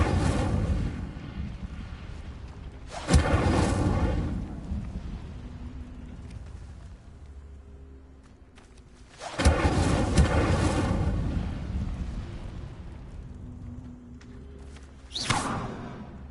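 An Incendio fire spell is cast three times in Hogwarts Legacy, each a sudden roaring whoosh that swells, then fades into a long rumbling tail.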